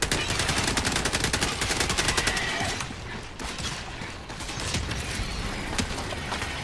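Dense, loud game combat from Helldivers 2 with rapid bursts of gunfire and explosive impacts over the first three seconds. Mortar strikes pound an enemy patrol, then the barrage eases into sparser, more distant blasts and rattles.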